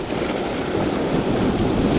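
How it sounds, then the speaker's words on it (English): Ocean swell rolls onto a reef in a steady, loud wash of surf, blended with heavy wind buffeting the microphone, constant with no voices. "a little bit of swell rolling through at the moment"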